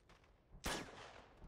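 A single loud gunshot fired at a lock in Uncharted: Among Thieves, a sharp crack that rings out and fades over a second, with nothing else around it.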